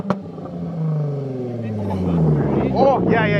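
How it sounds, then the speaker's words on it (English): A Jaguar F-Pace S engine with straight-piped exhaust, loud and raspy, drones and builds in pitch as it revs, with a harsh, unmuffled exhaust tone and a voice briefly over it. "We just did an exhaust delete to see what it sounds like."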